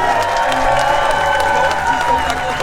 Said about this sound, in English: can I ask everyone to give Team England a big cheer?